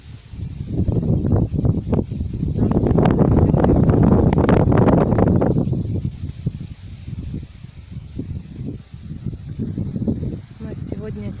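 Gusty wind buffets the microphone with low rumbling surges, strongest in the middle, while a voice talks intermittently underneath.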